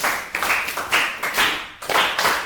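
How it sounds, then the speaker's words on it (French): A French-language class applauds on cue in a classroom: short, bunched bursts of group clapping arrive in uneven pulses, loud and close, with brief dips between them. "Applaudissez."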